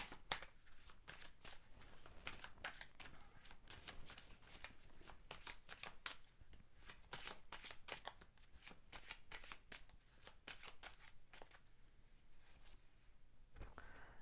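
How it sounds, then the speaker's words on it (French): Tarot cards being shuffled and drawn, a quiet, close run of rapid papery flicks and riffles that carries on steadily throughout. "Je vais quand même tirer une autre carte pour avoir plus d'infos."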